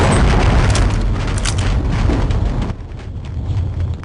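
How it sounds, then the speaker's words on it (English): A plastic gas can blows up in Half-Life: Uplink with a loud, sustained boom that rumbles for a few seconds, then drops to a quieter echoing tail. "That was a resounding explosion for a gas can. A plastic gas can."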